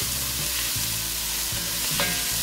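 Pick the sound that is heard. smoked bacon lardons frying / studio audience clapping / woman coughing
smoked bacon lardons frying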